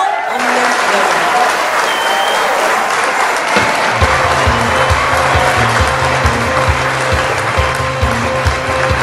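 Loud, sustained applause from a festival crowd at the first Taebaeksan azalea song festival, dense and steady throughout, with a band's rhythmic music starting underneath partway through.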